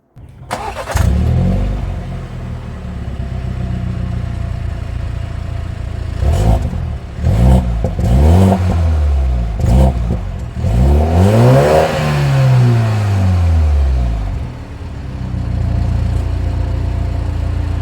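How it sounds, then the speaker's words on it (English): A BMW X4 engine cranks and catches, then settles to idle before several sharp revs rise and fall, with a deep exhaust note, close and loud, no talking. "let's give it a start, a few revs, listen to the exhaust note"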